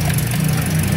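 A car engine idles steadily with its hood open during battery and alternator checks, a constant low mechanical hum with a slight rhythmic throb, close and fairly loud.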